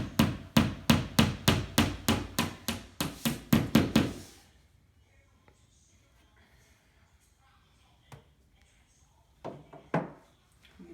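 About a dozen sharp, evenly paced hammer blows strike a nail, then stop; afterward only faint scattered knocks and rustling remain.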